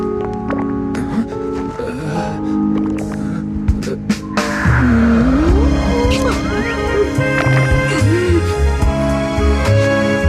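Car in the Zenless Zone Zero video game pulling away: an engine revs up midway and keeps droning with rising and falling pitch, layered over game music with a faint tire squeal.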